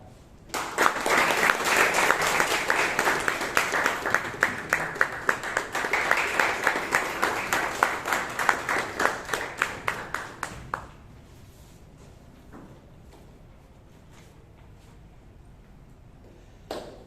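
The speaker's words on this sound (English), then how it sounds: "Can we have a round of applause for the Toastmaster," An audience at a Bangalore Toastmasters meeting gives a round of applause for the Toastmaster, brisk clapping for about ten seconds that tapers into scattered claps, then a quiet room with a few faint stray claps.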